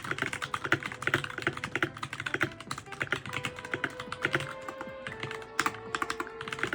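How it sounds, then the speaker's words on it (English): Rapid typing on a computer keyboard in its stock, unmodded state, with dense clacky keystrokes and occasional heavier thuds close up, steady rhythm throughout with no talking. "this is what my keyboard sounded like before any of the mods that I had done"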